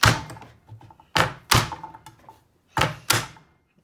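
Garlic cloves pressed flat under a big knife on a cutting board for salt and pepper shrimp, giving five sharp, close thunks in an uneven rhythm with short decaying tails and quieter taps between them.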